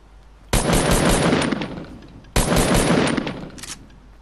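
Two rapid bursts of automatic gunfire in Fortnite Battle Royale, each a loud, close rattling volley lasting about a second before trailing off.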